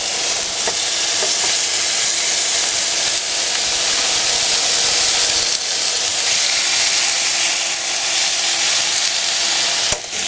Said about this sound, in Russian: Во время жарки, как правило, образуется, ну, в данном конкретном случае пар, но иногда бывает дым.